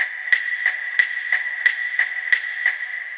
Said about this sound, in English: So that sound is actually a sample from Among Us.